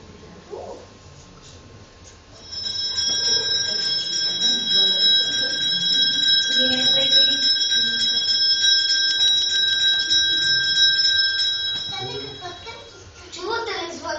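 A small school bell rings continuously at a school celebration, a bright, sustained metallic trill lasting about ten seconds, close and fairly loud, with a voice speaking briefly before and after it.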